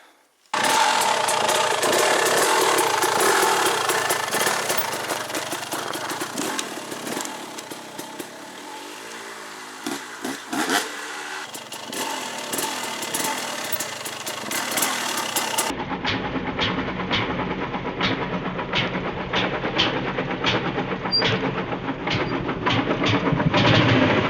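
An enduro dirt bike engine runs at low revs while the rider descends a hill slowly, a steady close, loud drone with small throttle changes and a rougher, sputtering stretch partway through.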